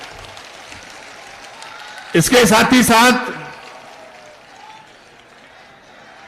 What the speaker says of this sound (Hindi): एक बार जोरदार तालियों से माननीय बहन जी का आप लोग स्वागत करें